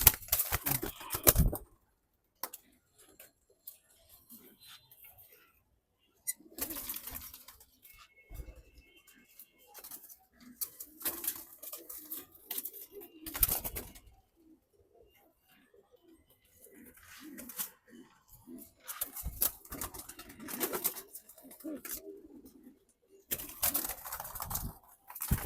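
Hamburg pigeons coo softly in scattered low bursts, separated by sharp intermittent clattering noises and stretches of near silence, nearby with no speech.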